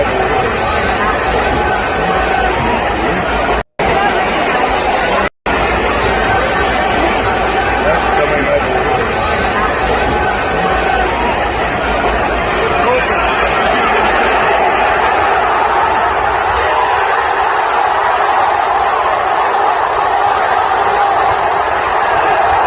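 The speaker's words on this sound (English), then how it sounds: "You could hear the crowd when he broke that first tackle" A large football stadium crowd at a Bears versus Lions game roars steadily for over twenty seconds, a broad wash of cheering and chatter that swells and then thins slightly, with a couple of brief dropouts.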